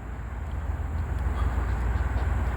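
A train approaches through woods near Abbeville as a low, steady rumble that slowly grows louder, heard from some distance with no horn.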